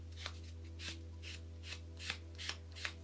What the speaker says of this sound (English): You can use the 100 side because obviously you're still only buffing off the poly gel to smooth it over.